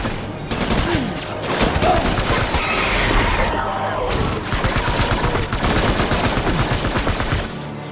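Sustained gunfire in the Death Stranding game on PS5, dense bursts of automatic weapons and overlapping shots crackling loudly and continuously for several seconds, with a shouted voice briefly mixed in.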